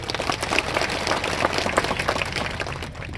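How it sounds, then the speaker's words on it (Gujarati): A crowd at a political rally in Dediyapada, Gujarat claps and applauds together, a dense, sustained patter of many hands, fairly close and steady through the short stretch with no talking over it. "બધા માટે એકવાર આપણે જોરદાર તાળીઓ પાડી"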